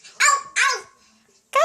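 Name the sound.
child imitating a barking dog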